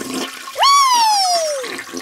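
A toilet flushes loudly and close by, opening with a rising, whooshing rush of water that slowly fades as it drains.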